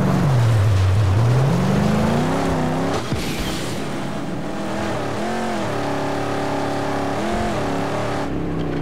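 A car drives in the Mad Max video game, its engine droning loudly and steadily with rising and falling pitch as it revs, accelerates and shifts, close and continuous throughout.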